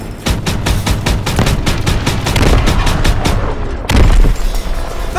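Dense battlefield gunfire in Call of Duty: WWII, a rapid fusillade of rifle and machine-gun shots with deep booms, loud and continuous with a brief lull before another burst.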